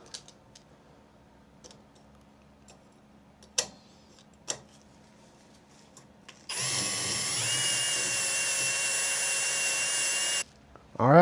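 A drill-driven hone whirs steadily inside the cylinder bores of a Kawasaki KZ400, roughing them up for about four seconds after a few sharp knocks and clicks, loud and close, then stopping abruptly.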